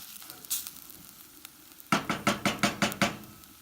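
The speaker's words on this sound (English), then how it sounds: "We want to break up the chorizo and incorporate it in with the onions as much as possible and let it brown." Soy chorizo browning with onions in a pot: a quiet sizzle, then a rapid series of about eight sharp scraping strokes of a utensil against the pan as the mixture is broken up.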